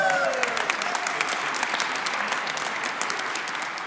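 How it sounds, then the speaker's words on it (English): Church congregation applauding during a community church live stream, a broad, even wash of many hands clapping that holds steady throughout, heard from a moderate distance in a reverberant room. "Let's give them a round of applause."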